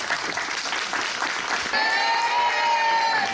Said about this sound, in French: Merci d'applaudir toute notre équipe